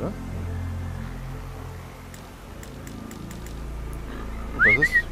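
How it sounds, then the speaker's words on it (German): A short rising two-part whistle calls a horse in the video game Horizon Zero Dawn, heard near the end over steady game ambience and music. "Und das ist Pferd herbei auf Pfeifen."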